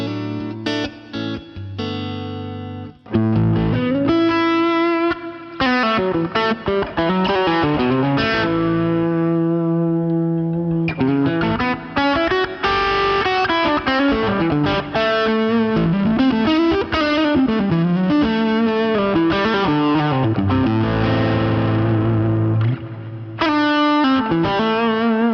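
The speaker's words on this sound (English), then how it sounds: "So this is an HRM, a J-Rocket HRM into the vibrato channel." Electric guitar played through a J-Rocket HRM pedal into the vibrato channel of a tube amp, giving a loud, distorted, sustained tone with shifting chords and melodic lines that ring continuously for about 25 seconds with no talking.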